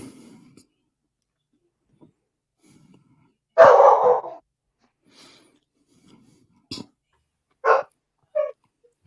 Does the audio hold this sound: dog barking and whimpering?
yes